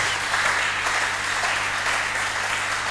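Worshippers at a church service applaud for the Lord Jesus, a sustained, even roar of many hands clapping throughout, with a low steady hum underneath.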